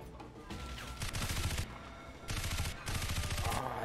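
Automatic rifle fire rattles in bursts in the Crysis video game, three long sustained volleys separated by short pauses, loud and close with no talk over it.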